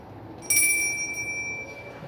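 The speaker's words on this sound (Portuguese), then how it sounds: "Neste instante, toca-se a campainha" An altar bell rung during a Catholic Mass gives one bright, clear strike whose high ringing tones sustain for over a second above a low hum of room noise.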